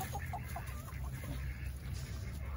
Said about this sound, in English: Jensen, these chickens are gonna get you.